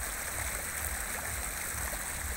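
Steady rushing water from the Nainínath waterfall and a mountain stream flowing down from the hills in rainy-season conditions, a continuous broadband hiss with no talk.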